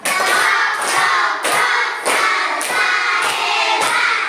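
A classroom of students performs a rhythmic group clapping cheer, loud and close, with sharp unison claps repeating in a steady patterned beat and brief pauses between phrases.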